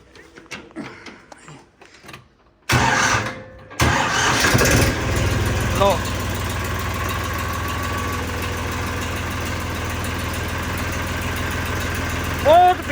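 A Farmtrac 47 tractor engine cranks and catches with a loud burst, then settles into a steady, rumbling idle that continues to the end.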